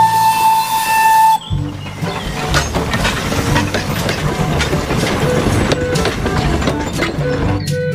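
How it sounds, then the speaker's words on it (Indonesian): A toy Thomas train lets out a shrill steam whistle blast, then chuffs with rhythmic hissing steam and clattering rail sounds, close and fairly loud. "Yang ini ada kereta Thomas."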